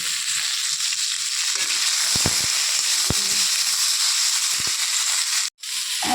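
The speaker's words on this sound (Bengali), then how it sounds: "নুন হলুদ দিয়ে ভাজা ভাজা করে নিয়ে দিয়েছি" Ridge gourd fries in hot oil tempered with five-spice, salt and turmeric, giving a steady, even sizzling hiss that runs throughout, broken only by a few soft knocks and a brief dip near the end.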